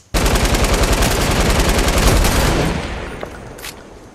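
Rapid automatic gunfire in Fortnite plays as a loud, continuous burst of evenly spaced shots for about two and a half seconds, then tails off into echoing decay.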